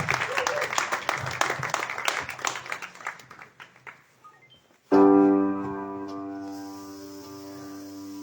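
Audience applause for the singer before she sings, loud crowd clapping that fades out over about four seconds, then a sustained musical tone with voice enters.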